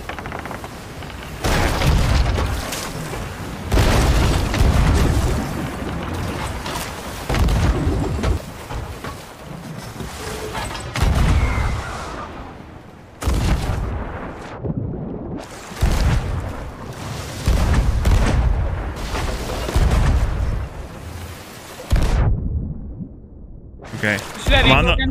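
Ship cannons firing in the Sea of Thieves video game, repeated heavy booms spread across the clip amid rushing sea and wind, with people talking throughout.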